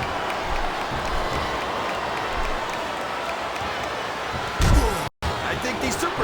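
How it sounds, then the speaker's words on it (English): Wrestling arena crowd at a WWE Cyber Sunday 2006 match between Jeff Hardy and Carlito, a steady roar of cheering and noise throughout with a louder surge and slam-like burst near the end. "I think these superstars are getting some feedback from the crowd, JR."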